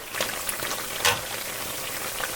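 Steady crackling sizzle of bolillo bread frying in hot lard, close up, with occasional louder pops and no talking.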